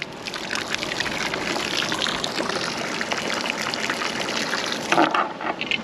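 Water runs steadily from a hose or tap into a narrowboat's water tank, a continuous close hiss with little change over several seconds.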